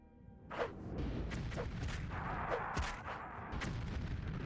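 Enchanted thrown rocks in a Skyrim mod burst one after another, sharp explosive cracks with short booming tails at uneven intervals, fairly quiet against a low rumbling background.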